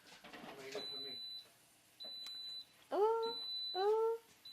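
Kitchen appliance in a GTA V roleplay game beeps repeatedly, a short series of high-pitched electronic tones spaced about a second apart, alternating with chirpy voice-like sounds.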